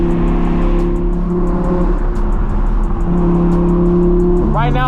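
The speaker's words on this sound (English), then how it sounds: "This car sounds absolutely crazy, bro. You can hear it from like 10 miles away" A loud, droning Audi R8 exhaust rumbles steadily with a low burbling tone, close by, ending in a rising rev.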